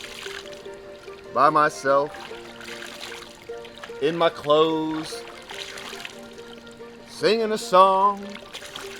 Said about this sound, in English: I'm just sitting in a river in Montana